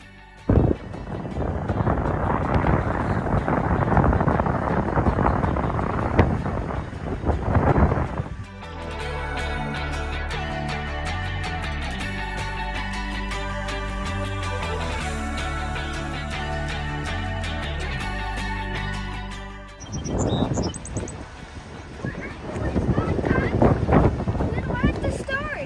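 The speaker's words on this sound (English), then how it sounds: "Here's a little piece of just how windy it was." Heavy wind buffets the microphone in loud, roaring gusts at Easton Beach in Newport, Rhode Island, broken in the middle by a stretch of music with voices, before the blustering returns.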